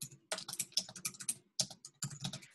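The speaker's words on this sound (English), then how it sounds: "I'm just typing notes in the chat box." Someone types notes on a computer keyboard: quick, irregular clicking keystrokes come in two bursts split by a short pause, quiet and close.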